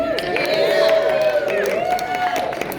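Crowd at an art and improv show cheering and whooping, bright rising shouts and hollers over a bed of clapping, loud and close for a few seconds.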